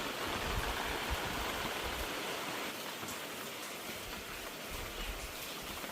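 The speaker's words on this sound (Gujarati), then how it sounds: "ઓહો જઈ વરસાદ હે" Heavy monsoon rain in Gujarat pours down in a constant, dense hiss, steady and unbroken throughout.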